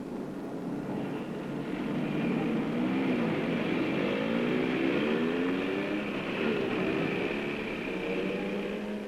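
Continuous rumbling roar of a passing train with wavering squeals and tones, steady and fairly loud throughout.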